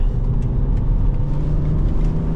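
A BMW X5 E70 3.0 SD diesel drives a twisty road, its engine a loud, steady low rumble with tyre and road noise filling the cabin, heard from inside the car.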